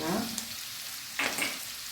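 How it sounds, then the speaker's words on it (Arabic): Garlic and spices such as salt, paprika, caraway, ras el hanout, cumin and chili frying in a pan while being stirred, a soft steady sizzle with a brief burst of scraping and hissing midway. "نخلطهم شويه"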